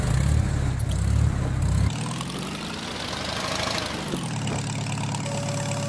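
Farmall M tractor with front loader in Farming Simulator 19, its engine idling steadily then rising in pitch as the loader hydraulics raise and lower, a continuous close mechanical drone without talk.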